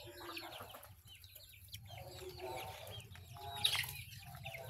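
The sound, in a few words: chickens clucking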